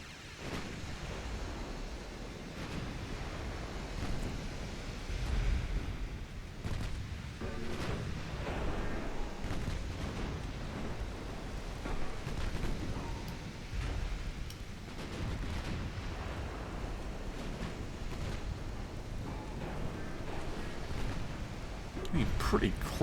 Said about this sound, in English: Caused an explosion in their secondary guns